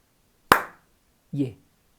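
Two hand claps count beats of a rhythm, the first a sharp, loud single clap, the second softer and duller after a short pause, in a quiet room.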